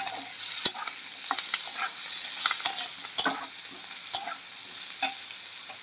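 Fried potato and green chilli stirred in a pan where black cumin has been fried, giving a steady close sizzle broken by several sharp scraping clicks of the spoon against the metal.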